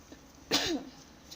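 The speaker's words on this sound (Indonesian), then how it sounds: "Sorry, aku batuk." A single short, sharp cough sounds close by, brief and clear against a quiet background.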